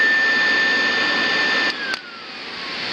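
A pool blower runs with a loud, steady whirring drone and a high whine that dips and slides lower partway through, then carries on at a slightly softer level.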